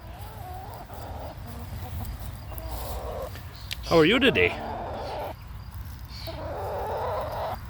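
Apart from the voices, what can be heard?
chickens clucking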